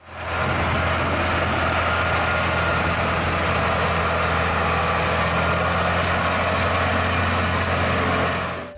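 A toy trailer truck gives off a steady, loud engine drone with a low rumble, holding constant and unbroken throughout with no voices.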